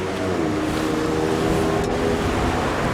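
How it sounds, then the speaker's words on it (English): Strong outdoor wind buffets the microphone with a loud, steady low rumble and roar for the whole stretch, with busy traffic along a city street blending in beneath it; no one speaks. "Man, this is fucking windy."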